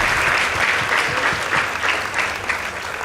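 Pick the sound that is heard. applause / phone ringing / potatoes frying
applause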